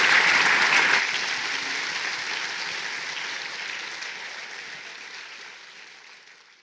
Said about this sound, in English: if you could give a huge round of applause to Linda Geddes.